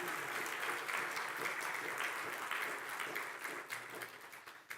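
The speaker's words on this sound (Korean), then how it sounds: "그 예수님께 영광의 찬양의 박수 한번 올려보시기 바랍니다" Church congregation at a Sunday service giving a sustained round of applause in praise, a soft, even wash of many hands that tapers slightly toward the end.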